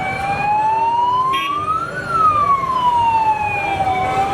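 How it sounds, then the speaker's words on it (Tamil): An emergency siren wails loudly and close at night near a hospital in Dindigul during a fire, its pitch rising and falling in a long sweep over road noise. "இங்க ஆம்புலன்ஸ் வருது, அதற்கு வழியாவது விடுங்க"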